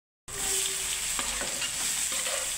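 Cumin seeds hit hot oil after a moment of silence and burst into a loud, close, steady sizzle, with light scraping stirs breaking through the crackle.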